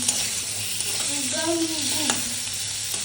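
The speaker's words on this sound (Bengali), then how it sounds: "তেলের মধ্যে ভেজে নিচ্ছি।" Chicken sausages fry in hot oil with a steady, moderate sizzle, while a brief voice-like tonal sound rises faintly in the middle.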